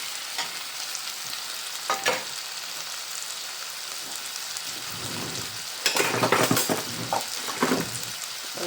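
Mushrooms, each cut into four pieces, go into a hot pan and are stirred. A low sizzle swells into a louder burst of frying with clattering spoon scrapes, then settles back.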